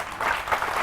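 A seminar audience claps in a brief, loud, dense burst of applause in an indoor hall.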